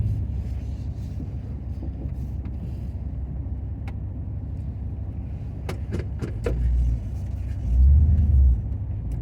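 An OBS two-wheel-drive pickup truck drives on a snowy, unplowed road, a steady low engine rumble with a few small clicks and rattles and a brief louder surge near the end.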